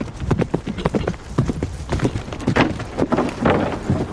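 Rapid, heavy hoofbeats of many cavalry horses galloping together in a charge, a loud rumbling clatter with dense irregular thuds throughout.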